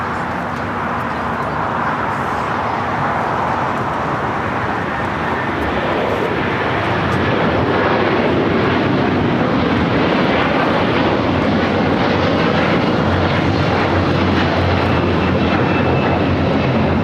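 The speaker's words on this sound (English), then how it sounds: "Latam A330 taking off." A LATAM Airbus A330-200 jet takes off at LAX bound for Santiago, Chile, its engines building into a loud, steady broadband roar that swells and holds close by for the whole stretch, with no voices.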